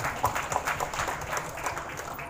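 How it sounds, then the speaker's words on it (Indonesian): Audience applause at a village digitalization event in Ponorogo, Indonesia, a scattered crowd clapping at moderate volume with uneven individual claps for about two seconds. "Tepuk tangan untuk Pak Jalu."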